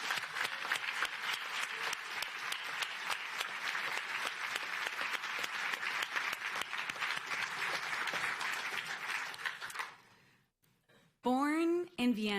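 Sustained audience applause at the California Hall of Fame induction ceremony, dense steady clapping for about ten seconds that fades out, followed by a brief burst of a speaking voice.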